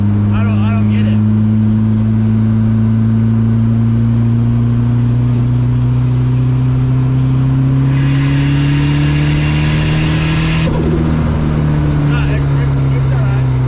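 A Datsun 510 with an SR20DET engine accelerating hard, a loud steady engine drone climbing smoothly in pitch from inside the car, with a burst of turbo hiss midway and a gear change near the end.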